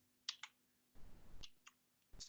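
A few clicks of computer keyboard key presses, sparse and quiet, spaced irregularly with a short stretch of faint noise between them.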